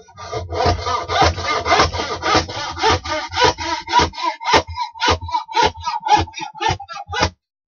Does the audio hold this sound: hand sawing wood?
yes